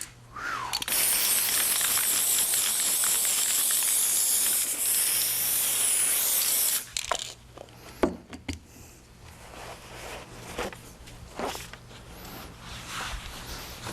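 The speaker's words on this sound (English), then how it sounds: "Plate and roller cleaner." An aerosol can of plate and roller cleaner sprays in one long, loud, steady hiss of about six seconds, then stops, followed by faint scattered handling clicks and rustles.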